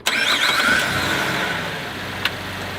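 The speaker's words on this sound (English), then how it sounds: "We push the button, start the engine." A car engine cranks and catches, started by push button before a charging system check, settling into a steady idle up close, with a short sharp click near the end.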